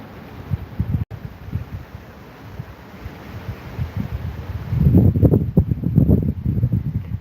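Gusty wind buffets the microphone under stormy skies, a steady rushing roar that swells into heavier, louder gusts near the end.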